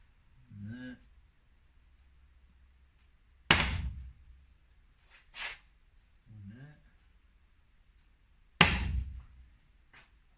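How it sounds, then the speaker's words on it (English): Sharp metallic hammer strikes ring out twice as holes are punched, each followed by a brief clink, with a few short voiced sounds in between in a quiet room. "I'm going to punch the holes."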